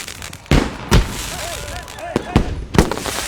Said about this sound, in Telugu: ఏంటయ్యా ఈ టపాసులు ఎక్కడ కొన్నారేంటి?